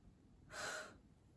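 A deep, full breath drawn in before playing a wind instrument, a single broad inhale of about half a second, close and fairly loud against a quiet room.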